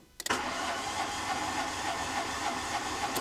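Two-cylinder Renault Twingo engine cranking with a faulty ECU, a brief click then a steady, rhythmic starter whirr without catching, close and loud.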